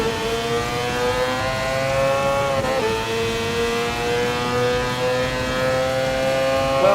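A Mazda 787B rotary race car in Gran Turismo Sport screams at high revs, its steady buzzing engine note holding near and loud with a brief dip and climb as it shifts.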